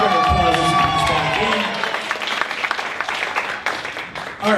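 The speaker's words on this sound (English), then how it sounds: "let's give a big round of applause as he comes back" An audience at a game show claps and cheers as a contestant returns, starting under a loud voice and music, then settling into a steady patter of many hands that tapers toward the end.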